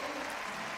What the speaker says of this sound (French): Vous applaudissez, frères et sœurs.